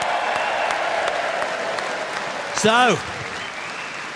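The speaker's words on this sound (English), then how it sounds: "And watch this for a cheer." Applause and crowd noise fill a hall at The Next Step political conference in Birmingham, a steady wash of clapping with a brief raised voice cutting through near the end.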